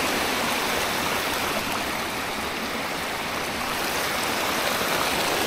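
A small waterfall and flowing stream on a rural farm lot, steady full-band rushing and splashing water, close and continuous throughout with no voices.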